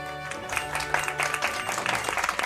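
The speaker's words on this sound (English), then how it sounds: "Yes, that does deserve clapping because that is a very stressful fight." Audience applause at a live Pokémon White 2 speedrun event, a steady wash of clapping from a crowd lasting the whole moment, moderately loud and continuous.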